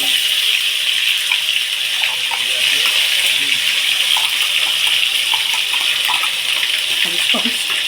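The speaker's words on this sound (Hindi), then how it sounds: "इसका तेल जब गर्म हो जाएगा तब हम ये पेस्ट है जो इसमें डाल के इसको सुनहरा रंग होने तक छोड़ देंगे।" Manchurian paste drops into hot oil and fries for hot, homemade Indo-Chinese fare, giving a loud, steady, close sizzle with crackling pops throughout.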